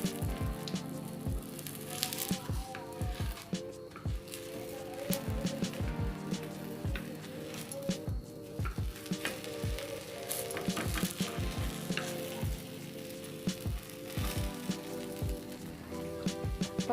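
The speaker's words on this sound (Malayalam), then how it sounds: "അപ്പോൾ കടുക് പൊട്ടി വരുന്നുണ്ട്." Mustard seeds splutter in a hot pan, a dense run of sharp pops and crackles over a continuous sizzle, steady and close throughout.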